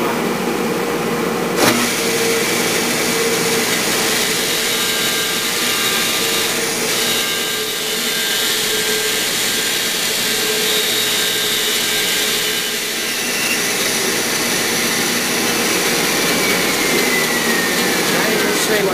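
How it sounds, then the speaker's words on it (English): A loud, steady power sander whines and hisses continuously up close while working veneered banding on an occasional table, with a brief sharp knock early on. "I find it very effective to sand right up to the line."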